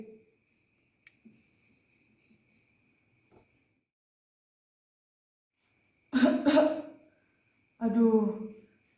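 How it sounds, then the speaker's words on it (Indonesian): After a long stretch of near silence, a few harsh coughs come in two close bursts, near and clear. "kok aku jadi batuk-batuk ya?"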